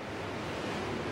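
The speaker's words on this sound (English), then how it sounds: "it's getting really windy" Strong wind roars steadily against the microphone high up a church chime tower, a dense continuous rush with no break and no voices.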